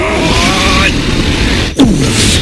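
In a Street Fighter 6 match, a car effect roars past with a loud engine whoosh and a sharp impact burst, under excited commentary and crowd noise from a tournament semifinal.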